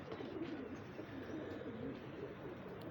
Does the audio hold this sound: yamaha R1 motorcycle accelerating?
no